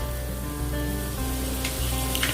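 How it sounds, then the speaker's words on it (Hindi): Butter melts in a preheated pan on a low gas flame for paneer butter masala, giving a steady, dense sizzle and crackle that runs close and loud throughout, with no voices. "अब मैं इस पे जाने दूंगा, बाकी का जो मक्खन है पूरा मक्खन मैं इसमें डाल दूंगा।"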